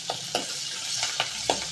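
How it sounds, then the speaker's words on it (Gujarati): Chopped onions hit hot oil already crackling with mustard seeds, cumin and a pinch of asafoetida, giving a steady close sizzle broken by several sharp scraping stirs of a spoon in the pan. "3 નંગ મોટી સુધારેલી ડુંગળી નાખશું।"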